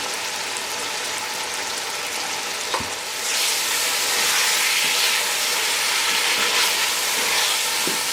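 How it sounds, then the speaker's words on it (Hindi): Tomatoes with ginger and garlic paste fry and get stirred in a pan for beef haleem, a steady loud sizzle with occasional spoon scrapes that grows brighter partway through. "अब इन सब चीज़ों को अच्छी तरह से भून लेंगे और इतना भूनेंगे कि गोश्त का रंग चेंज हो जाए।"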